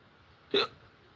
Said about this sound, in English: Shoot, I have hiccups now.